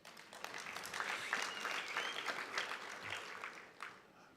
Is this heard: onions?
no